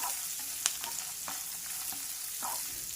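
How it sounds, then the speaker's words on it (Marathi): Dal, peanuts and fresh coconut slices sauté in a pan, a steady frying sizzle broken by several light scrapes and taps of a spoon stirring. "2 मिनिट सर्व जिन्नस परतून झाल्यानंतर ओल्या खोबऱ्याचे काप टाकून घ्यायचे"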